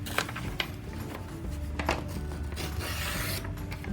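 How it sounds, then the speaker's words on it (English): Printer paper being ripped into strips: soft rasping tears repeat several times at close range, quiet and papery, with faint rustling between the rips. "with your printer paper, you're just going to rip it"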